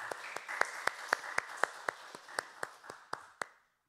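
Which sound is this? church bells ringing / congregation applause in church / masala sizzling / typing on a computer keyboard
congregation applause in church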